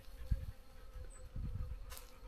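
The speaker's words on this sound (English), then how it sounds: "Well, the ground is absolutely covered in bees." A low, steady insect buzz close to the ground, with a few louder swells as bees pass near over bee-covered desert ground, over faint outdoor background noise.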